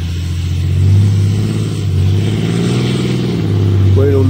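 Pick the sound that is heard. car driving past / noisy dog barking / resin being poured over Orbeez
car driving past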